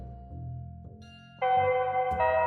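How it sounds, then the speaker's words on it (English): A school class bell rings in a video game set at school, a bright electronic chime that enters abruptly after low muted tones and sustains loudly to the end, with no speech. "the class bell has rung"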